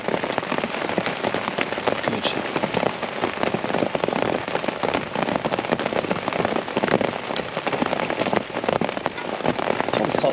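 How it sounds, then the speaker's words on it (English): Rain falling on a tent during wild camping, a dense continuous patter of drops drumming on the fabric up close, with one brief spoken word partway through. "As you can hear, it's raining"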